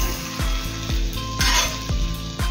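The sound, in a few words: butter sizzling while frying bread for French toast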